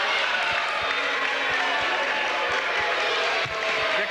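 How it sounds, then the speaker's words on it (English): A wrestling match crowd claps and cheers in a steady, loud wash, with rhythmic thumps underneath. "Dick applauding his protege."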